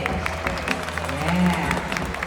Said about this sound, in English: how about a round of applause for the left up on stage?